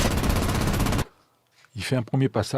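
Aircraft guns strafing the ground in the video game War Thunder: a dense, loud burst of rapid gunfire lasting about a second, then silence, followed by someone talking.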